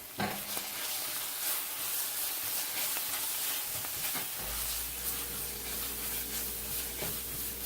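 Smoked paprika sizzling in a hot pan, a steady hissing fry with occasional scraping stir strokes, and a low hum that joins partway through.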